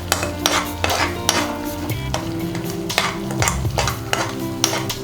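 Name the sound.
stirring tamarind rice mixture in a pan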